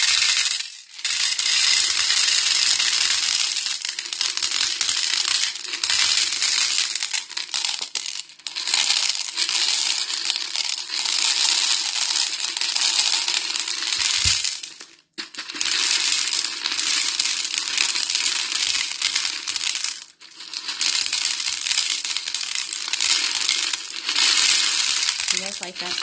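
Chinese crystal beads rattling and clattering in a bowl, a dense, continuous bright jingle of many small hard pieces shaken close up, with a short pause partway through.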